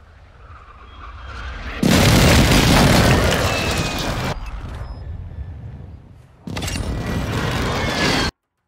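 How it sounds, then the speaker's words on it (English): A Call of Duty MW2 precision airstrike lands in two loud bursts, a first heavy explosion roaring and decaying over a couple of seconds, then a second blast that cuts off abruptly. "Enemy precision airstrike,"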